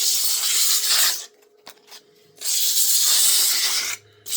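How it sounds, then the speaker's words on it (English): Sandpaper of 120 grit rubs against a wooden vase spinning on a lathe in reverse, giving two long, loud, hissing stretches of abrasive friction separated by a quieter gap with faint rustles. "just gonna start sanding it down"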